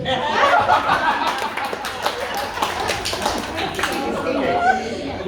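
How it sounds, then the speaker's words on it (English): Audience at a fundraising dinner for Tonga tsunami and Queensland flood relief breaks into sustained clapping, mixed with laughter and chatter throughout. "So a big round of applause to me."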